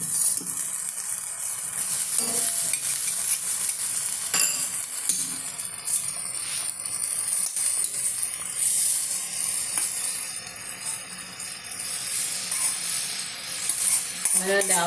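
Cooked green gram being added to a masala curry in a pan, giving a continuous close sizzle with scattered clinks and stirring scrapes of a utensil throughout.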